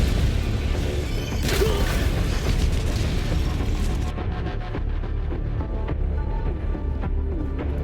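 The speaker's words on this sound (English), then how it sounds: "Death by underestimating the 380 orbital barrage" Heavy orbital barrage shelling in Helldivers 2, a continuous roar of loud booming explosions and crashing debris rolling on for several seconds with no pauses.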